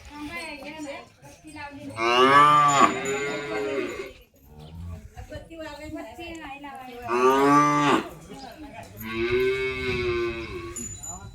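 Bulls at a village Bail Pola (Bendur) festival in Satara, Maharashtra, where women worship them. Three loud, drawn-out moos come from close by with short pauses between them, and faint background chatter sits underneath.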